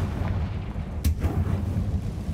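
A Confringo spell explosion in the video game Hogwarts Legacy lands as one muffled blast midway through. Low, steady rumbling fills the background before and after it.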